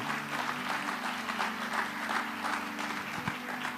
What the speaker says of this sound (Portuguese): Pode aplaudir, Senhor